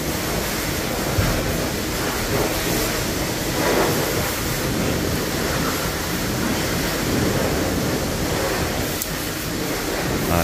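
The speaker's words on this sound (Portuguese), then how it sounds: "esguichar a água aqui no filtro" Water sprays onto a truck's filter in a steady, loud, broadband rushing hiss that continues without a break, close to the microphone, with no talking.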